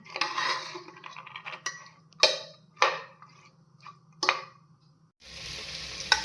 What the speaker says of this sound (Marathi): बारीक चिरून टोमॅटो टाकूया। ही भाजी आपण मिक्स करून घेऊ।